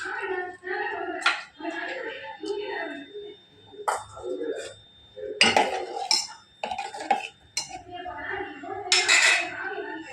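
A utensil clinks and scrapes against a metal pot of tamarind-water dish in a few bursts while someone talks over the stirring.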